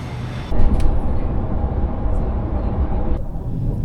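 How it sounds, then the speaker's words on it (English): Broadband rumble of a Sydney train pulling out of Central on the Newcastle line, a steady loud rolling roar that rises abruptly and holds throughout. "Anyway, the train's leaving now, so we'll jump on"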